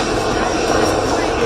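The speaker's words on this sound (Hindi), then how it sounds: "attack helicopter" An attack helicopter's engine gives a steady, loud, roaring drone for a brief moment, with a voice speaking over it.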